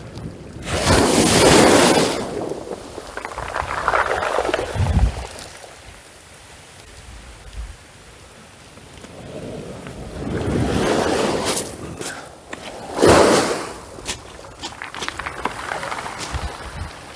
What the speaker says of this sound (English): the sound of that wind banging on the shelter and the waves crashing through